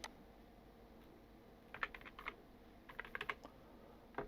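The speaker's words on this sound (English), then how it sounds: "I'll type in some more data now" Fingers typing on a computer keyboard while entering data into a web form, faint and close, in short irregular bursts of light clicking keystrokes separated by pauses in a quiet room.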